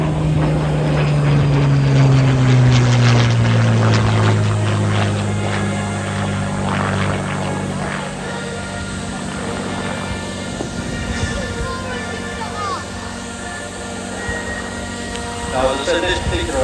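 Vintage propeller aircraft passing overhead at a steam and vintage rally, a loud droning engine tone sliding slowly lower as it goes by, with crowd and commentary voices mixed underneath.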